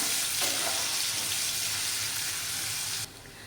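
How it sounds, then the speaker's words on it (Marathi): Chopped onion sautés in a pan, a steady loud sizzle and crackle running without pause before dropping abruptly quieter near the end, with no voices. "कांदा बघा चांगला परतलेला आहे"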